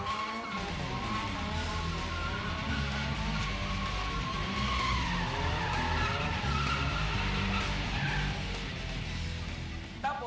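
Drifting car in a Philippine drift exhibition, tires skidding and squealing loudly and continuously for the whole stretch over a steady engine drone, with wavering screech tones rising and falling as the car slides through the corner.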